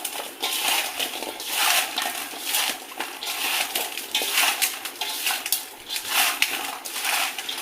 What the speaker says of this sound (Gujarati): હવે આને મિક્સ કરી દે ફટાફટ.